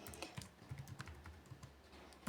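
Someone types on a computer keyboard while working in Microsoft Excel, giving quiet, irregular key clicks in short bursts with no talking.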